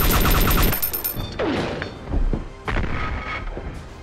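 Gunfire from an SVD sniper rifle in the DayZ video game, with a burst of loud, close shots at the start and several further sharp reports and booms spread through the rest of the clip.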